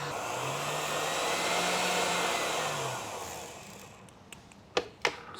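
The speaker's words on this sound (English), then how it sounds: "So I'm just going to take that off the mixer." A stand mixer whisks vanilla tonka bean chantilly cream set with a little gelatine, giving a loud steady whirr for about three seconds before it winds down, followed by a few sharp knocks.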